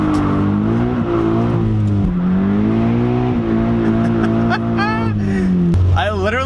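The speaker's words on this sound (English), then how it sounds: "I literally just bounced redline, just burning through second" A Subaru BRZ engine revving hard to its redline in second gear on a rainy day, the pitch climbing and falling through several sustained pulls, loud and close, with a voice speaking over it.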